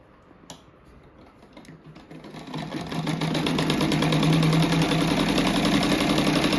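A sewing machine stitching the fabric frame of a tulip rug: a soft click, then the motor starts and ramps up into a steady, fast, close whirring rattle of the needle.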